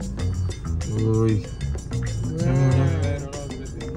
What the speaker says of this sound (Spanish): Un ejército de vaca.